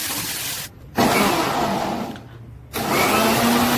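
An electric mixer grinder whirs loudly while grinding perandai (adamant creeper) thuvaiyal, running in two bursts separated by short pauses where the motor is stopped.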